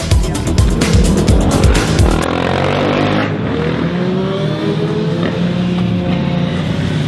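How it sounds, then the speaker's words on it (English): Loud motorbikes roar past close by, revving and then fading as they recede, with the drone trailing off. "There's some loud motorbikes this afternoon."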